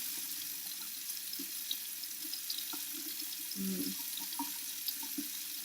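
Tap water runs steadily into a sink while someone washes their face with a charcoal cleansing bar, a faint, even splash close by with no talking.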